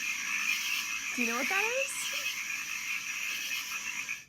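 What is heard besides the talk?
frogs croaking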